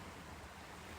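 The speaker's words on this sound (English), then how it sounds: "listening to the water" Steady wash of ocean surf lapping at a shore near Tybee Island Lighthouse at night, a soft continuous rumble with a faint wind hiss and no distinct breaks.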